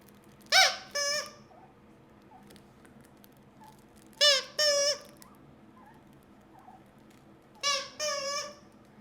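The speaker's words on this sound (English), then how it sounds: "All right, now we're going to the squeaker." Three short bursts from a squeaker toy during a hearing test, each a pair of bright, harmonic squeaks spaced a few seconds apart, fairly close and clear over a quiet room hum, with no talking.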